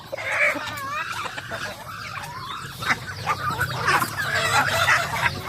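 A backyard flock of chickens and turkeys clucking and gobbling close by, a busy overlapping chorus of calls with rustling and shuffling underneath.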